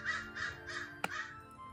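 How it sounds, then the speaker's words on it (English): A crow caws outdoors in a park with eucalyptus trees, giving four harsh calls in a steady rhythm at moderate distance, with a brief sharp click partway through and faint ambient background. "Hello, crow."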